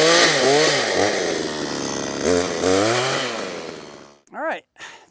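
A heavy chainsaw cutting through an oak tree, engine revving up and down in waves as it bites the wood, loud and close for about four seconds before dropping to a short burst of speech.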